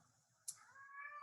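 A domestic cat meows indoors: one short chirp, then a long, drawn-out rising meow that swells and ends in a sharp upward cry, close and clear against a quiet room.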